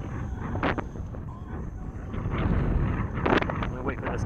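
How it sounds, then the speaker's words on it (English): Gusty wind buffets the microphone in a broadband rumble that swells toward the end, during the maiden flight of an FMS P-47 Razorback 1500mm RC plane, with brief bursts of a voice over it. "I'm gonna wait for this gust to die down."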